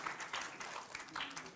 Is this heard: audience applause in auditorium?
yes